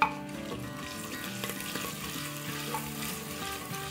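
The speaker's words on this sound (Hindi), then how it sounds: "इसको हम एक मिनट भूनेंगे" Green chillies fry and sizzle in a pan while kadhi is being made, giving a steady, close crackling hiss with occasional stirring scrapes throughout and no voices.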